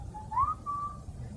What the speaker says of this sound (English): there's a whistle that was recorded into my laptop while I was sitting by the ocean on the West Coast